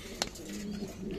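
Pigeons cooing softly in a loft during feeding, low throaty coos heard close but quiet over a steady background hum, with a brief sharp noise near the start.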